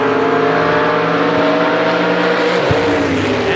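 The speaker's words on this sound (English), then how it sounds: "Taking on Jim McGuire from Lebanon, Missouri in the Vega hatchback." At Mo-Kan Dragway, an '81 Malibu G-body races a Vega hatchback in a drag race. Both engines roar loudly and continuously at full throttle, close to the microphone.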